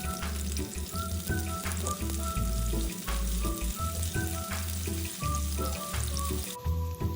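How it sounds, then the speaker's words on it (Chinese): Shallot slices fry in three to four tablespoons of cooking oil over medium-low heat, a steady close sizzle and crackle running throughout with no talking. "40克红葱片冷油下锅，炉开中低火将葱片爆香"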